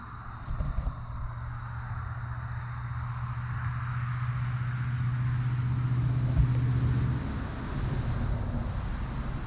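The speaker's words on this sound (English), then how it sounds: "Cars are coming, it's like rush hour around here." Cars on a rural roadside pass by in a continuous low rumble, a steady engine drone swelling and fading at moderate distance amid faint wind.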